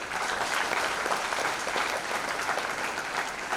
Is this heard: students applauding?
yes